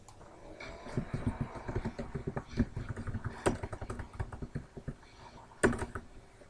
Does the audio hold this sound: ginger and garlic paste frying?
no